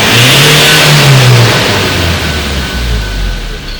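A Ford Ranger engine being diagnosed in a shop for a P00BD fault revs hard at wide open throttle, a loud close roar that climbs in pitch and then eases back down while the truck stays stationary.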